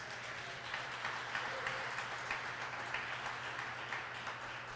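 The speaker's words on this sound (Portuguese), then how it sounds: "Pode aplaudir a Jesus." A church congregation claps steadily and fairly faintly during a service, a continuous wash of applause heard from a distance without voices.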